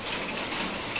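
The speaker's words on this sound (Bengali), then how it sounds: "বৃষ্টি হচ্ছে দেখতেও ভালো লাগছে" Steady rain pouring down outdoors, an even dense hiss of drops hitting surfaces with no pauses, close and fairly loud, with no voices.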